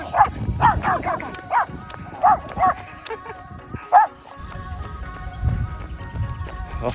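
A dog gives a string of short, sharp barks outdoors near a creek, spaced irregularly over a low background of footsteps and movement.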